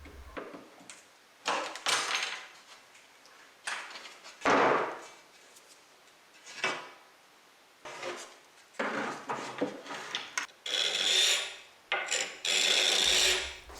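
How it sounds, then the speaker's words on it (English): A hand scraper works along the trim of an old 1930s silky oak sideboard, giving repeated rasping strokes in bursts of varying length, fairly close and loud, with short pauses between passes. "This is why having a few different scrapers is handy."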